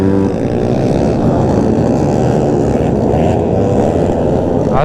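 A pack of around fifteen or sixteen motocross bikes racing on a track gives a loud, continuous engine roar that stays dense and steady throughout, with no voices heard.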